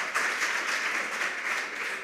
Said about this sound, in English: A round of applause to my contestants.